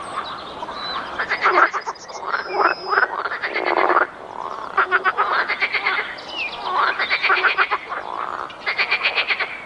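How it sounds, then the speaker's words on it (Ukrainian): A chorus of green frogs croaking at a pond in rapid rattling bursts, several calls overlapping and repeating, loud and close with little else around. "Так звучить хор зелених жаб на водоймі."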